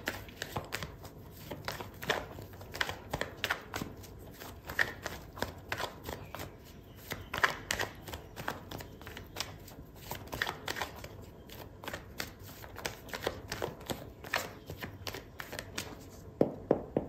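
Tarot cards shuffled by hand for a reading, a steady run of quick riffling snaps and soft slaps repeating close up for the whole stretch, with no talking.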